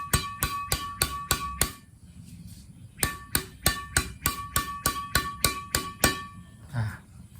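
A Yonex Muscle Power 22 Light badminton racket, a 5U flexible even-balance frame, striking a shuttlecock again and again in quick steady rallies of sharp, ringing pings, with a short pause partway through.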